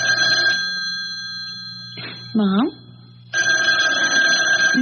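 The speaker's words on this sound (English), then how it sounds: "Why don't you answer the phone?" A telephone bell rings loudly in a radio mystery drama, its steady ringing running through most of the stretch and briefly breaking off while people talk over it.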